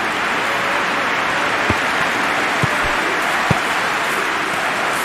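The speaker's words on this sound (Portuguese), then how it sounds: "a torcida tá cantando, a torcida tá empolgada" Football stadium crowd at a Brazilian cup match between Sport and Coritiba, a dense steady roar of supporters singing and cheering, broad and continuous, with a few faint low thumps.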